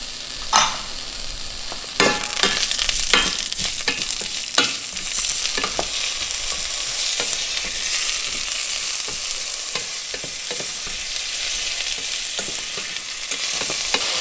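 Rice and broken vermicelli toasting in a hot pan for a homemade chicken and broccoli rice pilaf, steady soft sizzling with repeated scraping strokes of a spoon stirring the grains.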